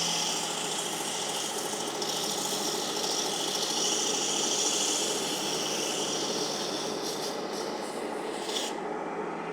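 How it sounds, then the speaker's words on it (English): A belt grinder grinds chips off the edge of a dull knife, a steady loud rasping hiss with an even motor hum that holds throughout and cuts off sharply near the end. "And we're just going to grind this right off."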